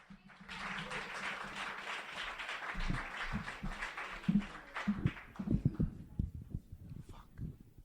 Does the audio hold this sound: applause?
yes